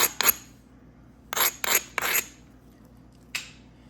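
Munsungun chert from Maine is worked by knapping, giving short, dry rasping scrapes close by and fairly quiet: one pair of strokes, a tight cluster of three, then a single faint stroke, over a low steady hum and no speech.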